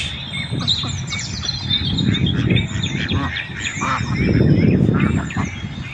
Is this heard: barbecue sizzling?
no